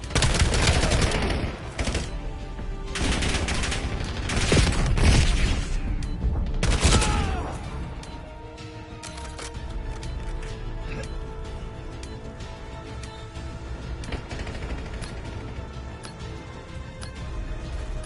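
Video game gunfire from enemies: loud bursts of rapid shots and booms in the first half, easing into steadier, quieter firing over a constant musical backdrop.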